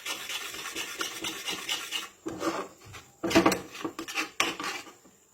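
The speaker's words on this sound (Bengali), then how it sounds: "গ্যাসটা অন রেখে নাড়তে থাকবো" A thick pea filling stirred in a pan over a gas flame, with a spoon scraping and rasping against the metal in uneven strokes, close up, louder bursts toward the end and no voices.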